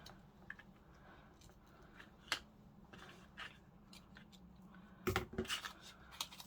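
Ribbon snipped with scissors after tying a double bow on a textured paper pocket craft; a faint tap and then a short cluster of crisp snips near the end, in a quiet room with no talk.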